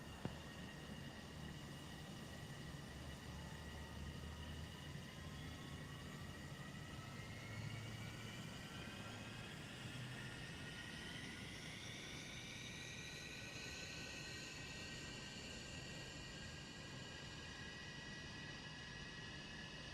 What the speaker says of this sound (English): Engine running. Heritage jet. The noise, eh?